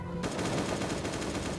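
Sustained full-auto AK rifle fire from the mobile survival game Last Day on Earth starts abruptly after a short quiet lead-in, then rattles on as a loud, close, evenly paced stream of shots without speech.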